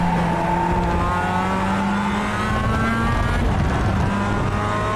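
Mazda MX-5 race cars in the iRacing simulator lapping Laguna Seca, engines droning steadily with shifting pitch and tyres sliding, a loud continuous mix of engine and tyre noise with no talk.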